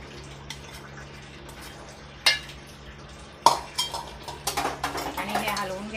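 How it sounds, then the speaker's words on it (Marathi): Spicy raw mango pickle mixture being stirred with a metal spoon in a pot, scraping and clinking against the sides in uneven strokes, with a few sharper knocks, close and fairly loud over a low background hum. "हे हलवून घ्या चांगलं आणि हे आपण आता त्या लोणच्यामध्ये टाकणार आहे"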